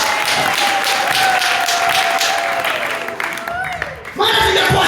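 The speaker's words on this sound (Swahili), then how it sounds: "Hebu mpigie Yesu makofi mengi kama tunaona." Church congregation clapping for Jesus, a continuous wash of applause under a held, sung or shouted voice, then a brief dip before the clapping and voices surge back.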